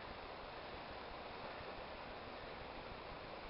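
Steady rush of Oshawa Creek flowing past a fishing spot, a continuous broadband wash of water that stays even and close throughout, with no voices.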